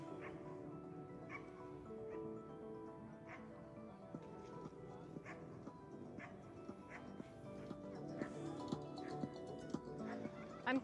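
Dogs bark in short, scattered yips in an outdoor park while children play, all mixed into a steady busy background with a voice talking over it.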